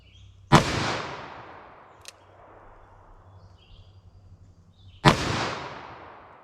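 Light-recoil .357 Magnum or .44 Magnum handloads fired outdoors: two sharp, loud shots about four and a half seconds apart, each followed by a decaying echo, with a faint click between them.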